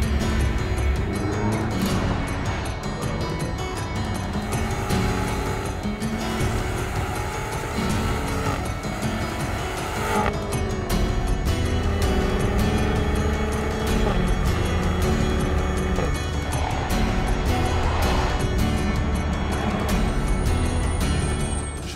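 A BMW X6 M engine roars continuously at high revs on a race track, shifting pitch as it accelerates and brakes, heard from inside the vehicle with road and wind noise.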